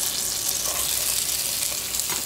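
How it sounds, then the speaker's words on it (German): Onions fry in butter in a hot pan, giving a dense continuous sizzle with soft stirring and scraping, close and steady throughout. "und während die Zwiebeln jetzt anbraten"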